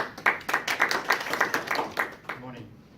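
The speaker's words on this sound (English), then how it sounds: "Please give a round of applause and welcome Mr." A small seminar audience at an arbitration forum claps to welcome a speaker, a sparse run of distinct hand claps that fades out within a few seconds.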